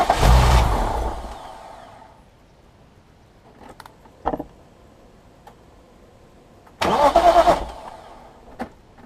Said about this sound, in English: Reconnect the battery and crank the engine.